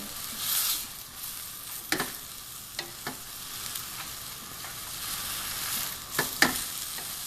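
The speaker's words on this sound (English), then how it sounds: "So I'm going to stir that up a little bit." Pad thai with sticky rice noodles sizzles and fries in a pan, with soft hiss throughout and occasional scraping clicks of a utensil stirring.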